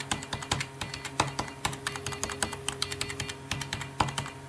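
Keys clack on an old Dell computer keyboard in a quick, uneven run of crisp, close taps with no talking.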